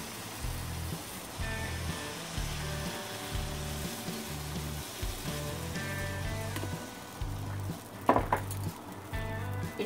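Mixed-vegetable uttapam batter sizzles on a hot pan, a steady crackling fry under repeated clinks and scrapes of a spoon and utensils, with one sharper clatter near the end.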